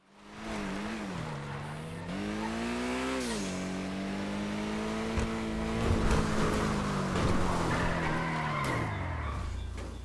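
A Pegassi Toros SUV, modeled on the Lamborghini Urus, driven hard in the GTA video game, with a loud, continuous engine drone that rises and falls in pitch and tire skidding as it goes off-road.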